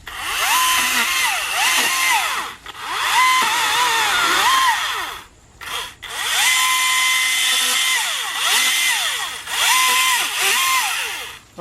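A Husqvarna 530iP4 battery pole saw trimming pine limbs outdoors, a loud whining motor running continuously at high speed with pitch rising and dipping as the chain bites, plus a few brief pauses.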